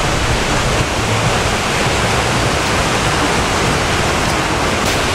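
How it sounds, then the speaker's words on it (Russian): Rough sea surf breaking on an Egyptian beach under a red flag: a steady, dense roar of crashing water and wash, loud and close, continuous without pauses or voices. "Море подштармливает."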